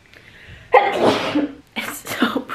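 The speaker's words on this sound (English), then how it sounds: "I have to sneeze." A single sharp sneeze bursts out near the mic, with a quieter breathy vocal sound following a moment later.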